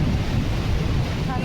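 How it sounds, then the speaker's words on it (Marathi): Calm surf at Arnala beach in Virar keeps breaking and washing in, a dense, even hiss and rumble of water mixed with wind buffeting the microphone, steady throughout with no pauses. "लाटा वगैरे छान आहेत एकदम"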